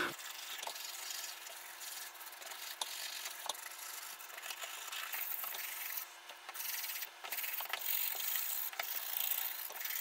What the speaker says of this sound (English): I'm just gonna give the board a complete clean with some IPA and a toothbrush.